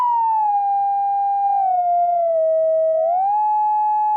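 Pink noise from a synthesizer run through a filter being tuned, giving a steady whistling, siren-like tone that glides down slowly, holds, then swings back up, loud and alone throughout.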